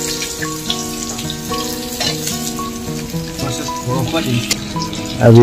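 Onion sizzles in hot oil with garlic for a pork curry, a bright steady crackle under tonal background music, a brief spoken word, and a louder burst of sizzling at the very end.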